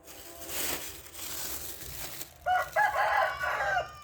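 Chickens cluck nearby, and a rooster crows loudly in the second half, over faint rustling.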